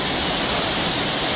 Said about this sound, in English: We're right in the waterfall